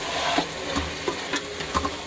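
Potatoes and carrots are stirred in a cooking pan, giving about five scraping stir strokes over a continuous sizzle of frying, close and clear, with no talking.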